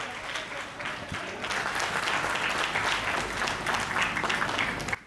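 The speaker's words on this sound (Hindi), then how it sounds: "दोनों हाथ उठाएं, जोरदार तालियों में तब्दील करें विनोद पाल" An audience at a Hindi comedy poetry show breaks into loud, sustained applause to welcome the comedian on stage. The dense clapping holds steady for several seconds, then cuts off abruptly.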